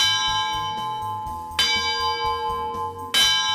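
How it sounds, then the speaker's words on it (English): A large bell is rung for lunch at a yachting awards gathering, giving loud, repeated clanging strokes whose ringing tones sustain and overlap, with two especially strong strikes standing out. "ringing the bell for lunch"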